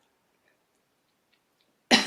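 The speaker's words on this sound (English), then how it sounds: "Literally force yourself to cough." One sharp forced cough bursts out at the very end after nearly two seconds of near silence, close and fairly loud.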